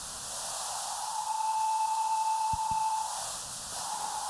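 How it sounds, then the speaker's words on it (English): Steady white noise from an NI Massive software synthesizer hisses throughout, a broad, even wash of static with a thin tone briefly sustained inside it and two faint clicks near the end. "So just now we just have white noise."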